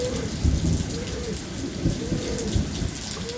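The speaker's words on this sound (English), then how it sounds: "So, yes, that was thunder for you right there." Heavy rain pours steadily during a severe thunderstorm while low rumbles of thunder swell and fade beneath it, loud and continuous, with no voices.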